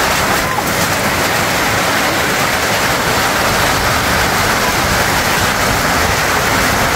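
A full waterfall roars in the rain, a loud, dense and unbroken rush of water that stays constant throughout.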